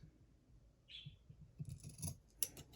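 Scissors cutting through a piece of salvaged material, a few short crisp snips close by, with light handling noise and no talking.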